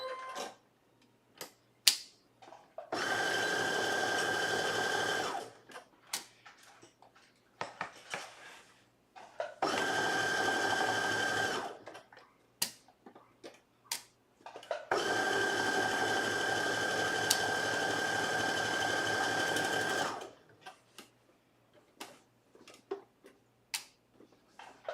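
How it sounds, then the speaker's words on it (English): A sewing machine sews a side seam in three steady, buzzing runs of several seconds each, separated by quiet pauses filled with light handling clicks. "move it up a little bit to sew that side seam together."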